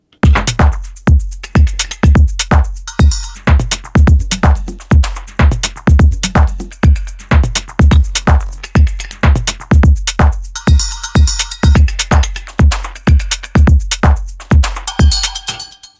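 A steady, fast electronic pattern of punchy sampled hits from a Digitakt 2 sampler repeats rhythmically, with LFO-modulated slices shifting in tone over time; loud and continuous.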